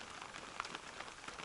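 Rain falls steadily around a forest hut after a hunt, a dense patter of drops on surfaces with a few sharper taps standing out, fairly faint and continuous with no one speaking.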